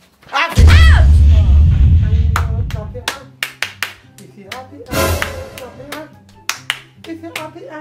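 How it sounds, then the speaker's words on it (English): Children clapping hands to a song, a run of sharp claps of uneven timing after a loud burst of singing, with voices singing and talking throughout. "if you're happy, clap your hands"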